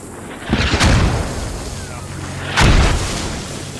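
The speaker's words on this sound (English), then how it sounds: "These mortars are tremendous." Mortar shells exploding in the Squad military shooter, two heavy booming blasts about two seconds apart, each with a sharp crack and a low rumbling tail over steady battlefield background.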